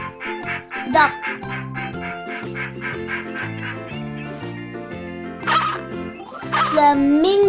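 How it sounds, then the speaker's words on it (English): A duck quacks in a few short, nasal bursts near the end, set over rhythmic background music that runs throughout. "Duck."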